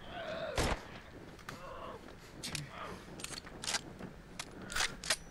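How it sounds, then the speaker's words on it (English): Several sharp, muffled silenced gunshots in the game ZOMBI go off at irregular intervals, each a brief thud-like burst, with faint game ambience between them. "Nice gunshot noise."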